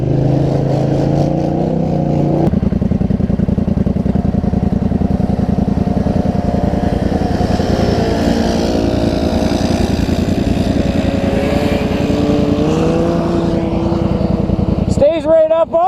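Turbo motorbike engine revving steadily under load, a loud, buzzing mid-pitched drone with small rises and falls in pitch, running close throughout, with a sharper burst near the end and people talking over it.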